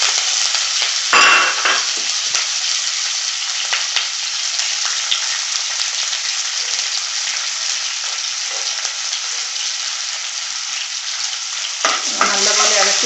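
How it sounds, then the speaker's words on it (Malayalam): Finely chopped green chillies, six or seven, frying loudly in a hot pan for a Kerala gooseberry pickle, a steady dense sizzle running throughout with brief stirring bursts near the start and end. "പച്ചമുളക് ചെറുതായിട്ട് അരിഞ്ഞ് വെച്ചത് ഒരു 6-7 പച്ചമുളക് ചെറുതായിട്ട് അരിഞ്ഞ് വെച്ച് അതിട്ട് കൊടുക്കാം."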